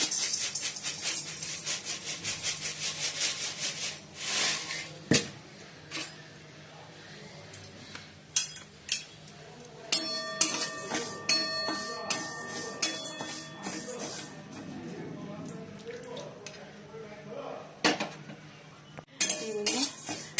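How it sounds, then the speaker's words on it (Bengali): Mung dal dry-roasting in a wok on a home kitchen stove, with a spatula scraping and clinking against the metal in irregular bursts, close by and moderately loud, with quieter stirring gaps between. "আর মুগের ডালটা ভাজবো"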